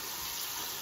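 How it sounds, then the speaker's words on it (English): Tap water runs steadily from a faucet into a sink while preparing to wash a face, a soft, continuous splashing hiss heard up close for under a second. "Get a little bit of water."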